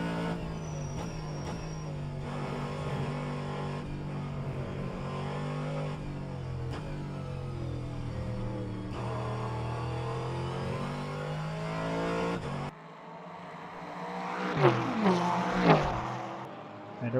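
Corvette and Ferrari GT3 race cars in a racing game at Portland International Raceway whine through rising and falling engine pitch, with a burst of revving near the end.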